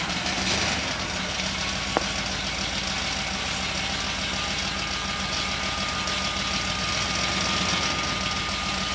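A small-block Chevy engine idles steadily at roughly 800 RPM, a loud, even rumble that holds through the whole stretch with a single brief click partway in.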